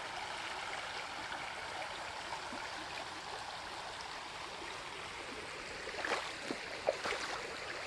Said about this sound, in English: And it's pretty little brook.